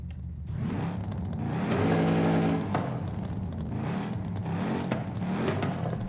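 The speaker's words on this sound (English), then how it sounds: "the idle kind of gets a little smoother with the race exhaust, but when you actually rev the engine," A car with a race exhaust fitted, in Forza Horizon 5, idles and then revs up, swelling to a loud throaty roar in the middle before easing back to a rougher, burbling idle. No one speaks.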